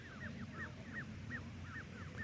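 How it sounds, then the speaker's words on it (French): Geese honk repeatedly in quick, overlapping calls, fairly distant and soft over a steady low background rumble. "je viens de vous montrer les oies"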